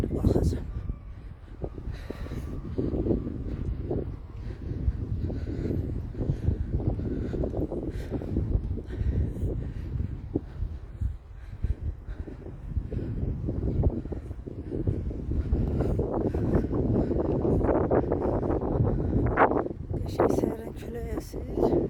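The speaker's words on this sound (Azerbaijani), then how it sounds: "Səhərən külək əsir." Wind gusts buffet the microphone while a person walks across a bridge in town, giving uneven low rumbling that rises and falls throughout, with someone speaking over much of it.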